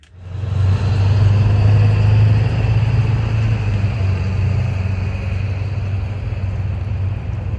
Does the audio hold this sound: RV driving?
yes